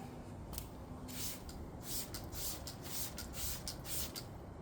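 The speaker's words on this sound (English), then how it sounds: "Now let's spray it on and see what we get." A spray bottle hisses in a quick run of short bursts, applying ceramic sealant to a car, over a low background rumble, with no talking.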